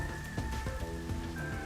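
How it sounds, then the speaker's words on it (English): Steady rain pours constantly in the video game Master Detective Archives: Raincode, a dense wash of drops heard alongside game music with sustained tones and soft percussive notes. "It rains 24/7."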